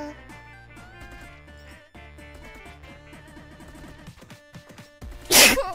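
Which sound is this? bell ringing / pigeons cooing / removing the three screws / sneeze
sneeze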